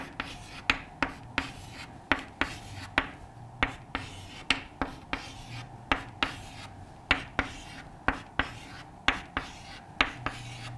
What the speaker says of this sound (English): if I draw the arrangement here once again